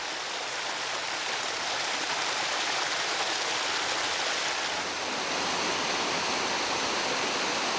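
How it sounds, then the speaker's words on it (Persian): A springtime waterfall roars steadily and close, a dense, unbroken wash of falling water that holds level from start to finish, with no voices. "زیباترین سمفونی که بهار به رهگذرانش تقدیم می کند همین آبشار است"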